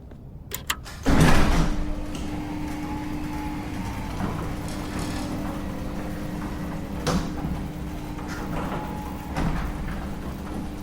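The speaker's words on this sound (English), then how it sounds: "I waited for the bay door to fully open" A bay door rolls open after a sharp clatter, then a steady mechanical hum and rumble carries on for several seconds, with occasional louder knocks along the way.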